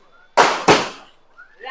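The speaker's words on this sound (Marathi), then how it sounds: "आणि फायनली बॉम्ब वगैरे फुटायला चालू झाले आहे." Two sharp firecracker bangs go off in quick succession at a Ganesh festival in Sakinaka, Mumbai, each loud and close with a short decaying rumble, followed by quieter background noise.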